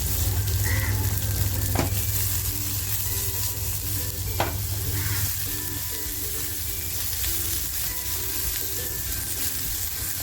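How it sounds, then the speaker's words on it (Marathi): Onion and garlic fry in hot oil, a steady sizzling hiss with a couple of sharp utensil taps and faint stirring, moderately loud and without talk. "तेल छान तापल्यानंतर लसूण टाकायचे त्याच्यानंतर बघा कांदा टाकते"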